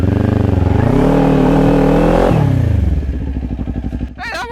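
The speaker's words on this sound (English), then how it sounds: "it just spins and doesn't get traction. Yeah, that's sort of a burnout." A Kawasaki Ninja 400 motorcycle doing a burnout roars loud and close with the engine held high, then drops to a lumpy idle; a short voiced shout comes near the end.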